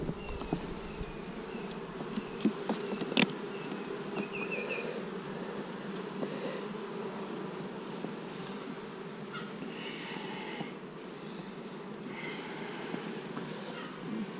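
Honeybees buzz steadily during a beehive inspection, a continuous close, low drone with small rises and occasional faint clicks of frames being handled, no talk.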